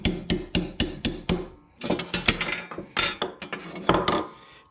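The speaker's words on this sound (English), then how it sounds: "So we'll just take a punch right here, put it in. I'm just going to tap it out." A hammer strikes a metal punch to drive out a spring pin on a GPS mount, a run of sharp, evenly spaced metallic taps up close, then a quicker, more irregular burst of clinking blows.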